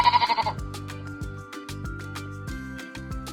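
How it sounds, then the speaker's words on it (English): A sheep lets out a short, wavering bleat at the start, followed by a rhythmic, plucked musical backing with steady beats. "It's a sheep."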